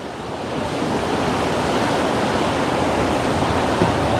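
Ocean surf rolls in off Waikiki, Hawaii, a loud, steady wash of breaking waves with a windy hiss that holds throughout and no talking.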